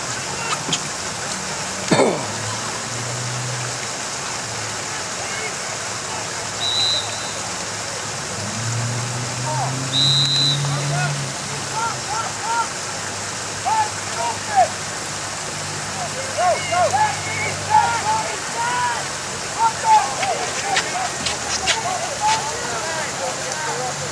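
Steady rain hissing across an outdoor youth lacrosse field during a U13 game, a constant broadband wash under commentary, with occasional sharp clicks and taps of sticks and play.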